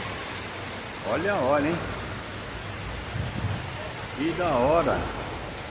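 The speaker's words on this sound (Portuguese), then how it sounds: "Que chuva forte, ó." Heavy wind-driven rain pours in a steady, dense hiss that fills the whole stretch, while a person speaks briefly over it.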